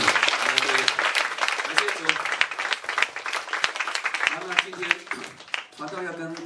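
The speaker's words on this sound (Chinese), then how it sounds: "我们先拍掌把荣耀归给主" A church congregation claps hands together in praise after prayer, a dense, sustained round of applause filling the room, with a voice speaking over it intermittently throughout.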